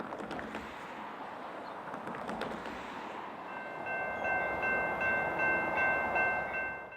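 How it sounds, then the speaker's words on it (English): A yard switcher locomotive pulls out along a rail line, its diesel rumble and rolling wheel noise building steadily from a distance, with high metallic wheel squeal near the end. "Looking north, we see the same 8-yard switcher that we were just watching pulled out quite a ways south of Yard Center for headroom"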